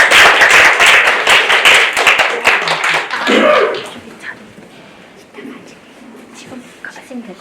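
Audience members at a university performance forum clap for a presenter coming forward, a brisk burst of close claps that dies away after about four seconds, leaving quiet room noise and scattered voices.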